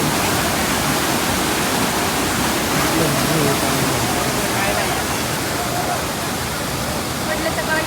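Water rushes steadily at Kundamala waterfall, a loud, continuous broadband roar with voices faintly mixed in beneath it.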